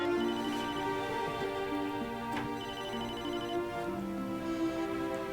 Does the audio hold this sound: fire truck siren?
no